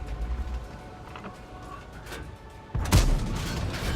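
A tank cannon in World of Tanks fires at a Matilda: a low engine rumble runs throughout, then a single heavy, booming shot bursts out near the end and leaves a rumbling tail.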